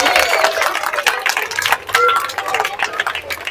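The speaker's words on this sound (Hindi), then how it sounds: "बजाओ ताली भाई, मैडम ने बहुत बढ़िया सबके।" Schoolchildren clapping together for a teacher after a school fire safety drill, a dense burst of applause mixed with excited voices and chatter throughout.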